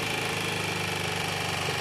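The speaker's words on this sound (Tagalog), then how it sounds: "sobrang lakas ng ingay na makina na ito" A very loud engine runs close by with a steady, rough idle, rhythmic knocking pulses and dense vibration, continuous and unbroken from start to end.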